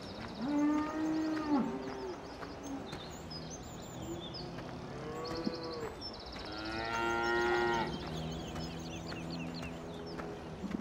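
Cows moo in the Farming Simulator 17 video game, several long drawn-out lowing calls overlapping at close to mid distance, with faint bird chirps and farm ambience behind them.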